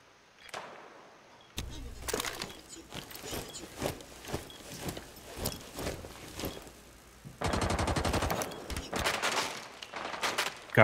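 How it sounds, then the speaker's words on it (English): Rainbow Six Siege gunfire crackles in sharp repeated shots and short bursts, with a sustained dense volley of automatic fire later, loud and close with little talk. "Looks like they're shooting in through the window next to armor."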